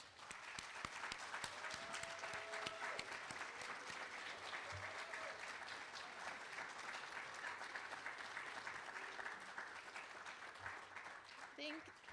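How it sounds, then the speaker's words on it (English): Audience applause at an evening white coat ceremony for nursing students, a steady, full round of clapping from a large crowd lasting throughout, with faint voices and a few brief tones mixed beneath. "let's give them a big round of applause"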